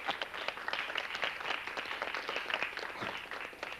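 An audience applauds a magic trick with steady, dense clapping that fills the room and carries on throughout.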